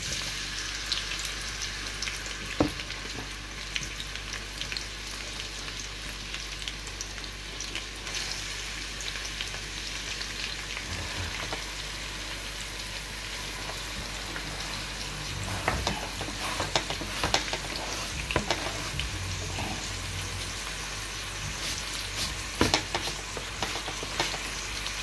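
Jerk seasoning fries down in a pot as the base for Jamaican brown stew fish, with a steady close sizzle and occasional stirring clinks and scrapes.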